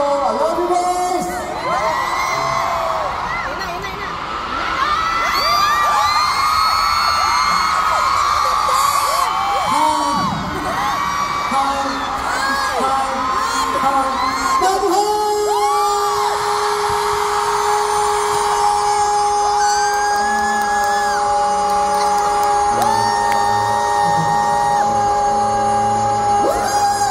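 A large crowd at a Super Junior fan party in Manila screams, whoops and cheers continuously, loud and near, with high shrieks swelling over the roar throughout.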